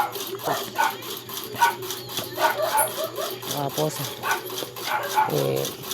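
A dog barks and whimpers in short, repeated bursts while a person talks nearby, the yips close and fairly loud.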